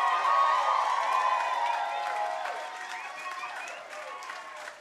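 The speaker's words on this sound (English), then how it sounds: "So let's hear it for Nathan Lund, everybody, on the side of slobs." A comedy-show audience applauds and cheers for comedian Nathan Lund, with loud clapping blended with whoops and voices that rise early and gradually fade.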